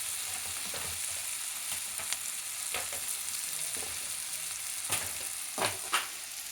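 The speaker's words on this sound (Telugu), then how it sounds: "ఇప్పుడు టమాటాలు వేసుకుందామండి." Onions and tomatoes fry in a pan for a kodiguddu pulusu, a steady broadband sizzle with several sharper crackles and spatters breaking through near the end, no voices.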